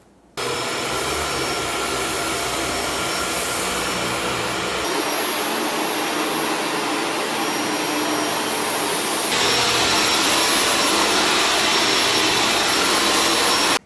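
A Shark Stratos upright vacuum cleaner runs continuously with a loud, steady airy roar and high whine, shifting slightly in tone twice as it is switched between modes, with no talk.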